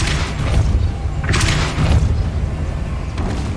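In Hogwarts Legacy, the Depulso force spell releases a couple of loud, dull whooshing booms close by, each swelling and fading over a steady rumbling background.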